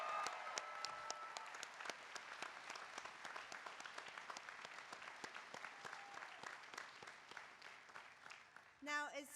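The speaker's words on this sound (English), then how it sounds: "Let's give one final round of applause to both of our student speakers." A crowd at a university ceremony applauds the student speakers with dense, sustained clapping that thins out and fades toward the end, where a voice briefly starts speaking.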